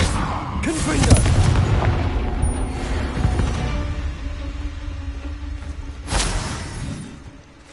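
Spell blasts from the Confringo fire spell in the PS5 game Hogwarts Legacy, heavy booming explosions with whooshing bursts, a big impact early and another near the end over a continuous rumbling battle bed.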